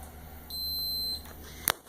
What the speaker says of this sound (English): Test to make sure your multimeter is active. You'll get a beep, and you can test all 3 points.